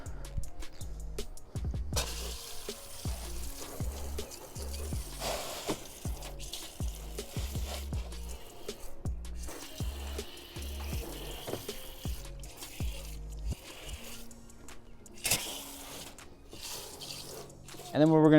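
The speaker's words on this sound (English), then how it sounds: "We are ready to go ahead and start rinsing it down." Water rinsing down the engine bay of a 158K-mile BMW 335i during detailing, a steady close hiss and splatter with pulsing spray bursts and no talking.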